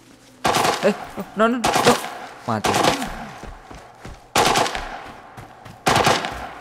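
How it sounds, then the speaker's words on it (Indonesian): Sharp bursts of automatic gunfire in the tactical shooter Arena Breakout, several loud separated volleys spaced a second or two apart, with a few short spoken words between shots. "Tembakan tuh depan."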